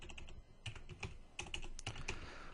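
Keystrokes from a computer keyboard during spreadsheet data entry in Excel, a quick irregular run of close, crisp clicks and taps with short pauses, heard alone without any talking.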